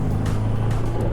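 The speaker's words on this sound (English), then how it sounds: "You can hear that engine is a little bit raucous, but it sounds actually more like a petrol V6 than a diesel." A VW Amarok Core V6 diesel pickup cruising on a freeway, its engine giving a steady, slightly raucous low drone with road and wind noise heard from inside the cabin, continuous and close.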